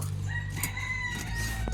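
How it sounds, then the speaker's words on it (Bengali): A native desi rooster crows in the background of a home kitchen where a chicken is being cut, a drawn-out harmonic call at moderate distance over steady room noise. "দেশি মুরগ"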